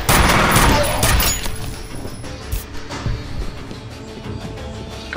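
Gunfire in the video game F.E.A.R. comes as a loud burst of rapid shots at the start, then fades into a quieter stretch with a few scattered single shots and lingering echoes.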